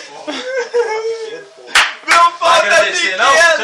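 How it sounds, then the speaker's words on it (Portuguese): Scattered claps and hand slaps burst out from a small group, coming in sharp uneven bunches between voices and a bit of laughter. "Palmas!"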